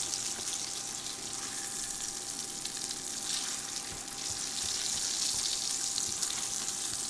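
Food fries steadily in butter in a cast iron skillet on an induction burner, a close, continuous bright sizzle that keeps going throughout and grows slightly louder toward the end.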